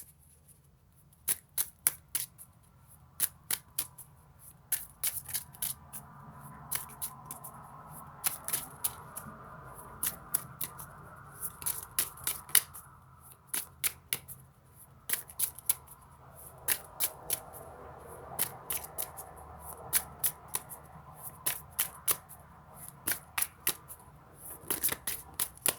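Tarot cards shuffled by hand before one spirit animal card is drawn, giving repeated crisp riffling bursts in an irregular rhythm over a quiet room, close and moderately soft, with no talking.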